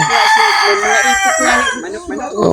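A rooster crows loudly and close, a long drawn-out call that fills the whole moment.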